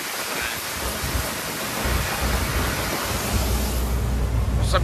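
Light rain falls outdoors beside a roadside where trucks wait, making a steady broad hiss with a low rumble underneath, even and continuous and without speech.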